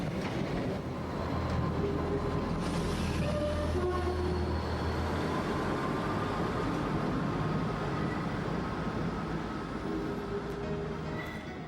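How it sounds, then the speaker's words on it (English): A passenger train in Scotland, bound for Fort William, rumbles steadily along the rails, a constant low roar with faint squeals and tones layered on top, sustained throughout. "Our train leaves for Fort William in the north"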